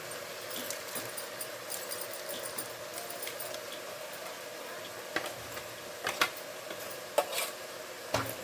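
Soft scraping as ground paste is stirred into a bottle gourd gravy in a pan, with faint sizzling and occasional light clinks of a utensil against metal.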